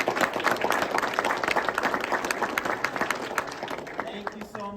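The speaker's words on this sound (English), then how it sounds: "giving them a big round of applause" A room full of people applauds a career panel at a business school event with dense, lively clapping that carries on for several seconds, with some faint talk mixed in as it tapers.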